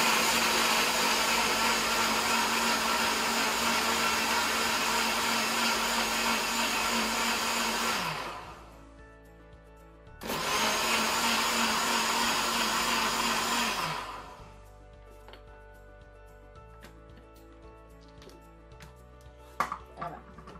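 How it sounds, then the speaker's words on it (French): A kitchen blender whirs loudly while mixing sauce jaune ingredients, running steadily for about eight seconds, cutting out briefly, then buzzing again for four seconds before stopping, leaving faint clinks and quiet handling. "Je vais mixer environ 30 secondes."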